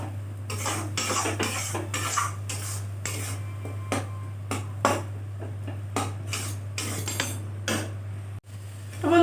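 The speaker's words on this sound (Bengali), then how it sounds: "আমি বন্ধুরা মশলাটা খুব ভালো করে কষিয়ে নিচ্ছি" Spice paste being sautéed for a katla fish head moong dal, with repeated sharp metal spatula scrapes and knocks against the pan in an irregular rhythm over a low steady hum.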